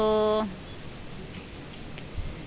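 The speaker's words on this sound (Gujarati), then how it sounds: "વરસાદ ચાલુ છે" Steady rain hisses evenly throughout at a village temple, right after a short electronic beep at the very start.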